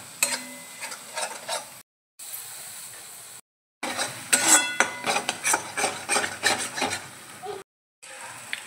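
Hyderabadi baingan masala gravy being stirred and roasted in hot oil: soft scraping and rubbing strokes with a faint sizzle, quiet and close, broken by a few short silent gaps.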